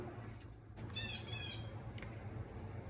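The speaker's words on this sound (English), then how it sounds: "Look, that bird just agreed with me." A bird squawks outdoors in a few short harsh calls around the one-second mark, fairly clear over a steady low background hum, with no one talking.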